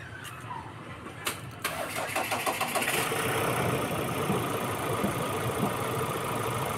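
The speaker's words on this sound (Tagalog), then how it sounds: "Kita nyo na napaka steady na yung andar niya." A Ford Ranger 2.0 engine with newly replaced injectors and fuel filter turns over and settles into a steady, even idle that runs close and loud for most of the stretch, with no voices.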